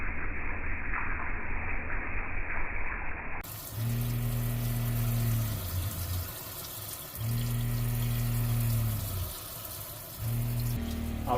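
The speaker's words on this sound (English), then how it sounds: "Now it's time to turn on the hot water." Hot water running from the tap in a converted Sprinter van, a steady broadband rush of flow under a low droning pump that cycles on and off in bursts.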